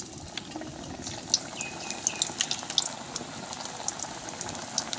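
Potatoes fry in hot oil in a wok-style pan, giving off a continuous crackling sizzle with scattered small pops, steady and close, and no voices over it.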